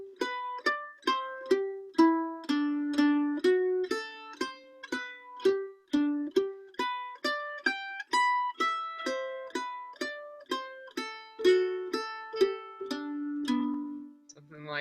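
Arpeggios played with all downstrokes in quarter notes over a chord progression, a steady even pulse of bright plucked notes tracing each chord in turn, close and clear, ending on a held low chord.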